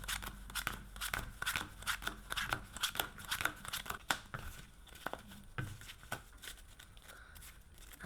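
Rapid riffling snaps of a card deck being shuffled hard, in repeated bursts, close and crisp, tapering off toward the end.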